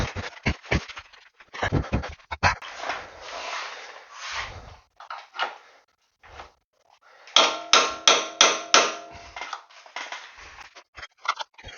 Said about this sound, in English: I'm just going to take a center punch and stick it in the hole and try to line this thing up